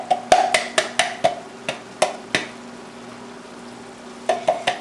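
Metal spoon repeatedly clanks and scrapes against a pan while chili ingredients, beans and meat are stirred together, a rapid series of close, sharp knocks with a brief pause midway.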